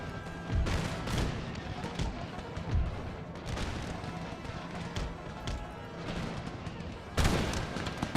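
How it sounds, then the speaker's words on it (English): Shrapnel artillery shots thud repeatedly on an 18th-century Empire: Total War battlefield, irregular booms and cracks layered over a dense crackle of distant musketry and battle noise. "Let's do some shrapnel shots."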